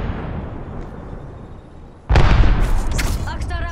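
A video game frag grenade goes off with a sudden loud boom about two seconds in, after a quiet stretch, followed by ringing debris and crackling sounds.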